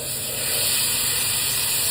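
Shrimp, already deveined and seasoned with chili powder, hit a hot pan and set off a loud, continuous hiss and sizzle that holds steady throughout.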